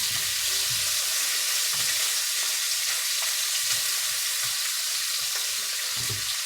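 Asparagus, prawns and barramundi fillet sizzle together in a hot pan with a dense, even hiss, while soft thumps and scrapes of tossing sound underneath. Close and steady, with no speech.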